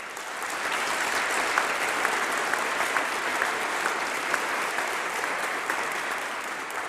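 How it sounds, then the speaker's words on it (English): A graduation ceremony crowd breaks into loud, sustained applause, a thick, even roar of many hands clapping that continues throughout without talk. "A round of applause, please."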